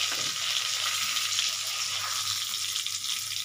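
Whole cardamom, cloves and torn bay leaf frying in oil in a pan, a steady broad sizzle with faint crackles, close and continuous, no voices.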